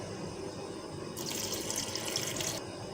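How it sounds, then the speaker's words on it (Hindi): Water from one cup is poured into a blender jar while plum juice is made, a steady splashing fill lasting under two seconds, close and fairly loud over a quiet kitchen. "अब हम इसमें 1 कप पानी डालेंगे"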